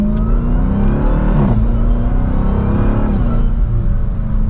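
A 2023 Dodge Durango SRT Hellcat with a supercharged engine accelerates hard from second gear, a loud sustained engine roar with whine rising steadily from inside the cabin, heard alone without talk.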